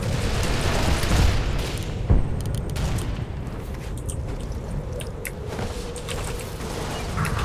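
Explosions in a Tom Clancy shooter video game: a dense, loud wash of rumbling blasts and crackling gunfire, with one sharp boom standing out near the start and constant battle noise continuing throughout.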